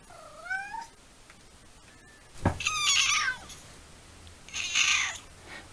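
Cats meowing on board a boat, several separate rising mews at close range with short pauses between them and no talking.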